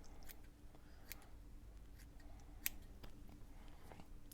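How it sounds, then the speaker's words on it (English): Scissors snip through gauze for a junk journal embellishment, giving a few faint, soft cuts and light clicks against a quiet room background. "I'm just going to cut some of this gauze"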